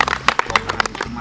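A small crowd claps at a comedy skit, a quick burst of uneven, fairly loud hand claps over a low murmur of voices.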